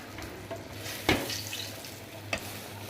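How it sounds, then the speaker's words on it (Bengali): Eggplant slices fry in a pan with a faint steady sizzle, a few soft scrapes and clinks of turning punctuating the low, quiet background. "আর এই হচ্ছে বেগুন ভাজা।"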